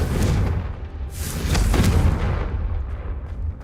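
A Confringo fire spell detonates in Hogwarts Legacy, a loud booming blast with a rumbling low-end tail that swells again midway, sustained and near throughout.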